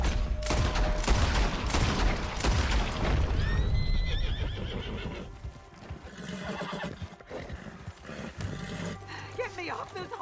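Horses whinny loudly over a dense clatter of galloping hooves in the video game Red Dead Redemption 2, with shouting voices, crowd noise and bursts of background action throughout.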